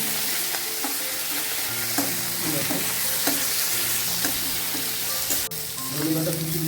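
Katla fish oil with turmeric is stirred in a hot pan: a continuous close sizzle runs under repeated scraping strokes of the spoon against the metal, with one sharper clack near the end.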